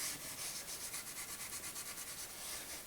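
Bisque pottery edges are rubbed down lightly by hand, giving a soft, steady, rhythmic scratchy rasp of repeated strokes, close and fairly quiet, with no voices.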